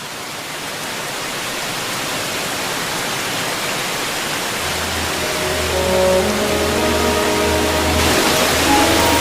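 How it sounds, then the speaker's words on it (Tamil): A waterfall roars as a broad, constant rush of water, loud and near, while a low hum and faint tonal music swell in partway through. "அருவினா உனக்கு ரொம்ப பிடிக்குமே, அதான்."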